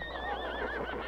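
A horse neighs and whinnies in the video game My Time at Sandrock, one continuous wavering call with faint hoof clops beneath, close and fairly loud, with no talking.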